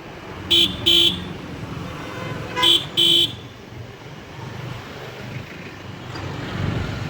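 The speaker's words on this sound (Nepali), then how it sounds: "हर्न त बजाइरहेछ टाइममा।" Vehicle horns honk in Kathmandu traffic, four short toots in two pairs spaced a couple of seconds apart over steady road and engine rumble, with no talk.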